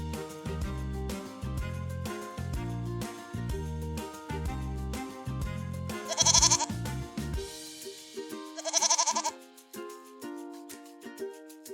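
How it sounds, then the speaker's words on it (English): Goats on the grass bleat twice in short wavering calls over a bouncy backing tune that drops out near the end. "How many goats are on the grass?"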